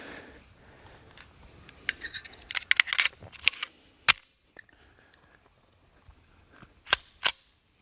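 Volquartsen Scorpion .22 WMR pistol shots, a cluster of quick cracks followed by a few separate sharp reports, fairly faint and distant against quiet outdoor background.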